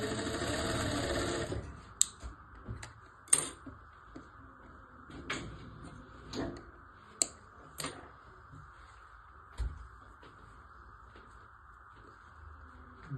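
A sewing machine stitching a seam on a one-year-old baby's frock runs in a short loud burst at the start, then gives way to scattered clicks and knocks of fabric handling over a faint steady tone.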